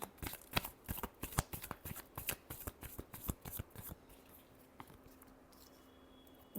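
Tarot cards are shuffled by hand in a quick run of close, crisp riffling flicks lasting about four seconds, then go quiet apart from one faint tap.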